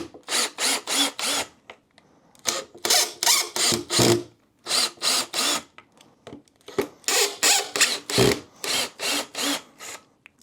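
A power drill whirs in repeated short bursts, backing screws out of a home theater subwoofer base, with brief pauses between runs and no talking.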